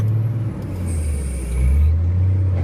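A Cat 980H grapple loader unloads a loaded log truck, its diesel engine rumbling loud and close with shifting low drone, plus a high whine and brief hiss as it works.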